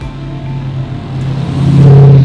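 A rare TVR 420 SEAC sports car engine idles steadily up close, with a deeper rumble swelling as it revs up toward the end.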